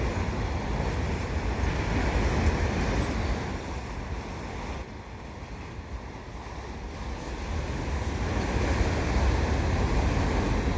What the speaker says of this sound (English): That's the end of the train right there.